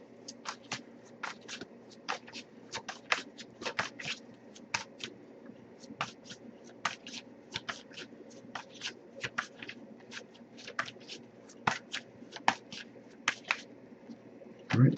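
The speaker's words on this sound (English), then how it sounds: "if I shuffle for a while without anything coming up, I actually just put the deck down" A deck of tarot cards being shuffled in repeated quick riffling bursts over a steady low background hum, close and moderately loud, with no talking.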